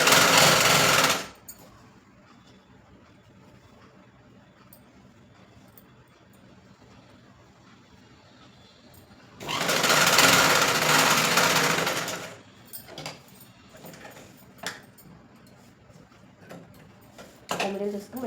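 Electric sewing machine stitching along the embroidered work on a heavy deep-neck blouse, in two loud bursts of rapid whirring, one at the start and a longer one mid-clip, separated by quiet handling sounds with a short run near the end.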